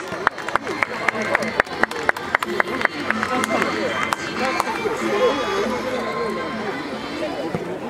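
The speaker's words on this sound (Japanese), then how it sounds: "観客の皆さん、今一度バリーさんに拍手をお願いします" Audience clapping for the mascot Barii-san, beginning with loud, distinct individual claps in an uneven rhythm before thickening into a busier spread of crowd noise with babble from many people.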